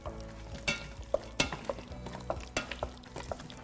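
Sausage and chopped whole onion being stirred in an Instant Pot, a utensil scraping and clacking in irregular strokes over a soft background sizzle, close and moderately loud with no talking.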